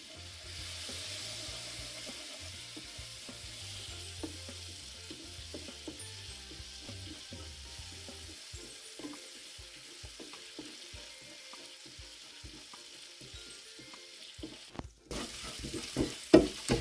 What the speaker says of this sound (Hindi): इसमें डालते हैं थोड़ा सा पानी। इसको भून लेते हैं।